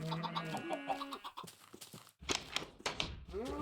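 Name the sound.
chickens clucking in Minecraft video game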